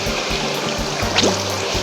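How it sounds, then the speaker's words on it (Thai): Steady rush of water at Sarika waterfall, a constant close wash of flowing water with a brief splashy trickle near the middle, no voices. "ดูนี่นะฮะน้ำตกนะครับเนี่ย น้ำอย่างนี้"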